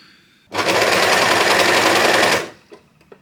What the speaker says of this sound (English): The overlocker cuts off the excess, so I don't have to do that later.